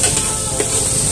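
Onion, ginger and tomato sautéing in a pan give a loud, steady, close sizzle with a faint scrape of stirring.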